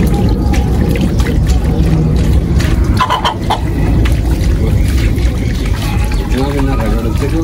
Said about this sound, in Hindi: ले जी मुर्गे को नहलाना शुरू।